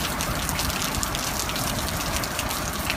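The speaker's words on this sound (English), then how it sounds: "It is raining really hard." Heavy rain pours down outdoors near a church, a dense, steady roar of drops that holds at full strength throughout, close and loud with no voices.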